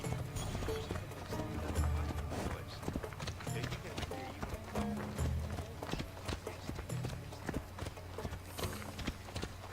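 Hooves beat in a quick, steady rhythm as a horse gallops in the video game Assassin's Creed Odyssey, with a person talking over it.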